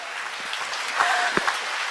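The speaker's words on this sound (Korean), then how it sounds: "수녀님 건강하시라고 박수 쳐주세요" A seated audience gives a soft, brief round of applause at a live talk during a commemorative anniversary concert. The clapping is fairly distant and even, with no voices.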